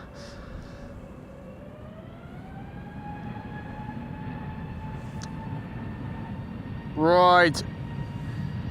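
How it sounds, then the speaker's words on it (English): An EasyJet Airbus A320neo departing Amsterdam Schiphol for Southend makes a steady engine roar with a whine that slowly climbs in pitch. A voice talks briefly, and a short burst of sound cuts in near the end. "EasyJet on its way to Southend. A320 Neo."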